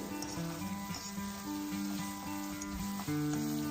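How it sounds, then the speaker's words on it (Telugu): Ginger garlic paste with fenugreek leaves frying in a pan for methi rice, a steady close sizzle with soft stirring scrapes running throughout, alone with no talk. "అన్నీ కూడా బాగా ఫ్రై చేసుకోవాలండి మంచి అరోమా వచ్చేదాకా"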